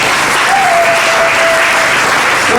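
Church congregation during an evening gospel service clapping and cheering loudly, a dense, steady wash of applause that fills the whole stretch, with a brief sustained voice rising above it.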